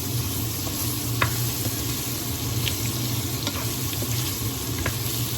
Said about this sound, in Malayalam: അപ്പോൾ നമുക്കൊന്ന് ഇളക്കി കൊടുക്കാവേ